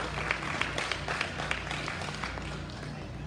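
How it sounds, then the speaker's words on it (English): Crowd applause fills an arena during a livestock sale of champions, steady clapping running for several seconds at moderate, slightly distant level. "Let's give them all a big round of applause one more time"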